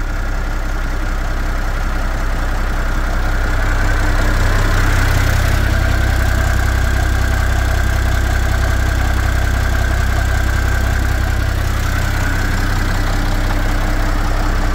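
A Massey Ferguson 1135 tractor engine idling, a loud, steady, low diesel rumble with a faint knocking texture that holds evenly throughout, close by and alone without talk.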